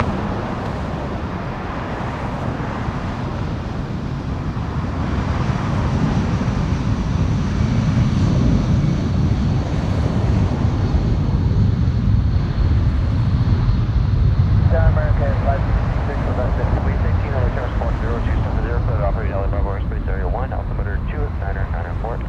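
A Delta Boeing 757 bound for Detroit takes off at LAX, its jet roar building and holding as a broad, heavy rumble, with someone talking over it throughout.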